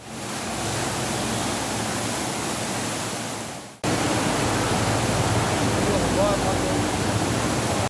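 Loud, broadband rushing of the Saptakoshi river in flood at the opened gates of the Koshi Barrage, a steady roar of churning water that drops out for a moment and resumes just as strong.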